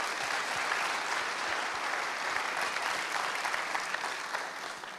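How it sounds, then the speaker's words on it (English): Audience applause at a university Hall of Fame induction ceremony, a dense, even clapping that fills the room and tapers off slightly toward the end. "But if we would, even in his absence, a round of applause for Tim Tuffle."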